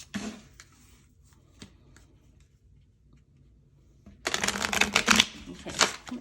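Oracle cards being shuffled by hand, a few faint isolated flicks followed by a loud, close, rapid riffling burst lasting a couple of seconds.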